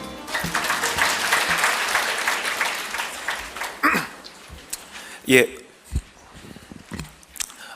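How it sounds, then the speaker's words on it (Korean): Audience at a national dementia management workshop applauds a presenter, a full round of clapping that thins out after a few seconds, followed by scattered rustles and thumps in the hall. "큰 박수 부탁드립니다"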